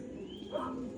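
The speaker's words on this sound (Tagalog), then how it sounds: "Jerome, ito na yung kalapati mo." Racing pigeon at a club's summer race training loft gives a soft, low coo over a steady background hum, brief and close, with no talk over it.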